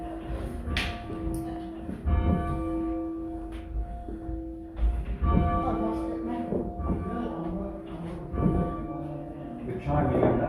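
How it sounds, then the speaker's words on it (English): Church bells are rung by hand in a ringing session that includes the tenor bell, with clanging tolls arriving in an uneven rhythm while people talk over them. "The chiming and the making the bell go up is the most difficult bit."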